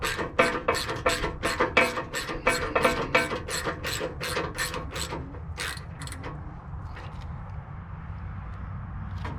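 Rapid ratcheting clicks from a wrench turning a bolt on a 1962 Chevrolet C10 pickup, a steady close run of sharp clicks for about six seconds that slows to a few scattered clicks before fading into low background hum.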